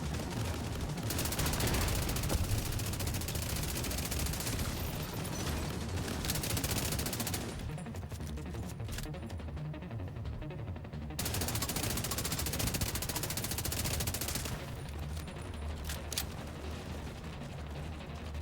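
Gunfire from the video game The Division 2 rattles in long, dense automatic bursts, loud and continuous, broken by one short quieter gap in the middle.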